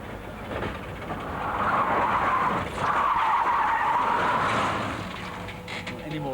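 A car skids on a Swedish skid-training rig built to simulate ice, snow and very wet roads, its tires hissing and scrubbing loudly in a long swelling slide that fades away at the end.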